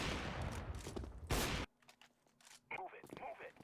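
Bursts of rapid gunfire in Counter-Strike: Global Offensive crackle loudly for over a second, then cut to quieter scattered shots and faint game sounds.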